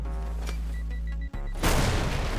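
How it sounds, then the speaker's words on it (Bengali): A bomb goes off in the Garena Free City open-world video game: steady game ambience, a sudden drop-out, then a loud, dense blast and rumbling wash of debris that carries to the end. "এখান থেকে আমরা ব্লাস্ট করে দিয়েছি"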